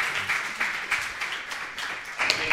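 Audience applause at a small art session, a steady wash of clapping from a modest crowd heard alone at moderate level throughout.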